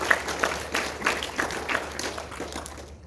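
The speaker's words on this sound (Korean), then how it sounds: "박수 한번 또 주세요" Audience applause at a lecture in a hall, a moderate wash of clapping with a few distinct sharper claps, sustained for a few seconds before dropping off at the end.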